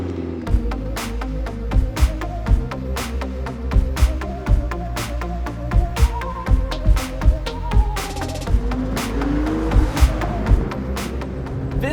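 A 2015 McLaren 650S Spider supercar drives with a loud, close engine note, rising and falling with repeated sharp thumps and pops across the run.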